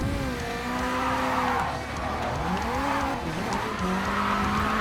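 In a video game, a car drifts sideways with a steady, loud tire squeal and a whining engine pitch that wavers and bends through the slide, with no talking.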